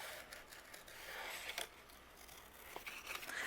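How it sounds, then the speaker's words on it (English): Scissors fussy cut around patterned paper arrows, soft close snipping and slicing strokes with light paper rustle, quiet and intermittent. "take my scissors, and we are going to fussy cut around each one of our arrows."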